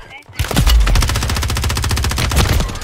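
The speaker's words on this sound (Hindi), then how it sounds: "बाजूले घर से स्नाइपर मार रहा है" Rapid automatic gunfire in the video game Warzone, a loud sustained burst of evenly spaced shots lasting a couple of seconds, close and dominant.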